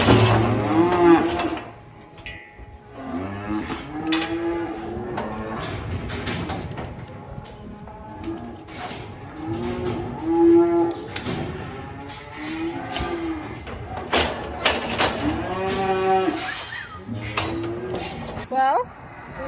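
Calves moo and bawl repeatedly during weaning and working on a farm, loud and close, with overlapping drawn-out calls arriving every few seconds over steady background noise.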